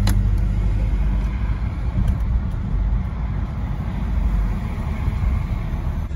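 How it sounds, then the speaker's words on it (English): A 1960 Lincoln Continental Mark V drives along with a steady low rumble of engine and road noise, continuous and fairly loud, with no talking. "I get to drive the car."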